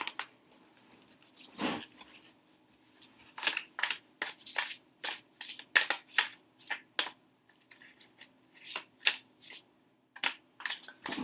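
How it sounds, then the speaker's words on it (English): Tarot cards are shuffled by hand in a quiet room, a string of crisp riffling and slapping bursts with short pauses between them, close to the listener and with no talk. "I'm going to shuffle these off camera"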